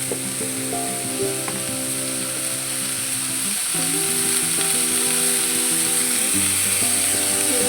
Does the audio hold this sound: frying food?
yes